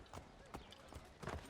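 Horse hooves clip-clop in a steady, moderate rhythm through a Boston street in Assassin's Creed 3, with a voice talking over them.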